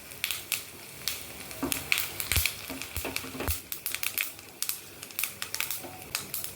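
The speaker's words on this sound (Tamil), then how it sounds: "சூடாக இப்போ வடகம் சேர்த்துக்கலாங்க." Vadagam, a sun-dried fritter, frying in hot oil for tempering a bottle gourd curry: a close crackle of irregular sharp pops and crisp bursts over a low sizzle, with no voices.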